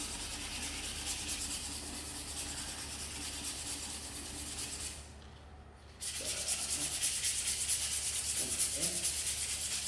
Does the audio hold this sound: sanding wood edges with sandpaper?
yes